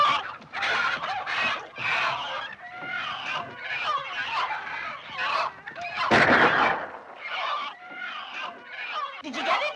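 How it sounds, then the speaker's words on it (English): Chickens in a hen house under a fox attack, frantic clucking and squawking in rapid bursts throughout, close and loud, with a sharp burst partway through and voices mixed in. "The fox! The fox is in my hen house!"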